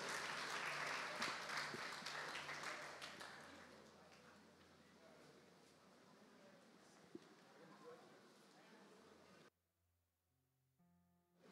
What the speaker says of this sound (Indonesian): Boleh tepuk tangan lagi semuanya untuk Contoh Yudin.